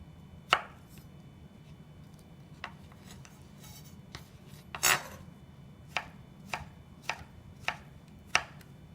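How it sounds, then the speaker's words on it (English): Boiled carrots chopped into small cubes on a board, about ten sharp knife strikes at an uneven, unhurried pace, close and clear over a faint room hum. "After boiling, you can slice or chop the carrots, just small cubes"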